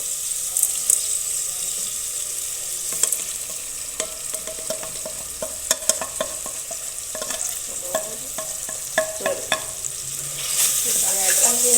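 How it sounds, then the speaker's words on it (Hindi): Spices stirred into a sizzling pan of green chickpea rice, a steady soft fry hiss with repeated clicks and scrapes of a spoon against the pot, no talking. "और इसमें सारे मसाले इसमें ऐड कर देंगे।"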